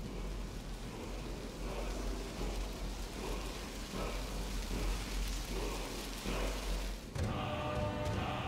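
Heavy rain and rolling thunder from a storm summoned by the Storm Call dragon shout in Skyrim, a dense continuous downpour that cuts off abruptly to a quieter, thinner wash near the end.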